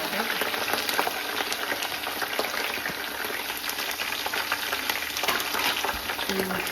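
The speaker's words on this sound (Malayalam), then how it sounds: "എന്നിട്ട് നന്നായിട്ട് വഴറ്റുക." Green chilies, ginger and garlic fry in hot oil for a bitter gourd pickle, a steady dense sizzle with stirring scrapes running throughout, close and continuous with no talking.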